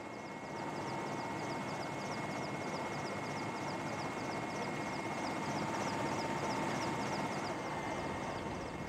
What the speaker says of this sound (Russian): Все вертолеты вот эти камуфляжные, они все военные.